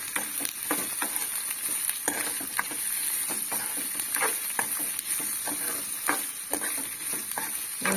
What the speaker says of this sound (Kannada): ಇದನ್ನು ಒಂದು ಸ್ವಲ್ಪ ಹುರ್ಕೋಬೇಕು ಉಳ್ಳಾಗಡ್ಡಿ.